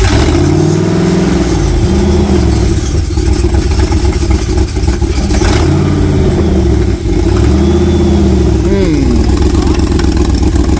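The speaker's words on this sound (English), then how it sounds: "There's an exhaust leak pretty bad." A car engine runs with a bad exhaust leak, a loud, rough, close-up drone with uneven puffing and a few small revs, while voices talk over it.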